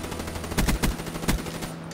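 A heavily modified, attachment-laden gun firing in Black Ops 3, a few quick punchy shots in a short burst of rapid reports, loud and close over a steady background hum, with no voices.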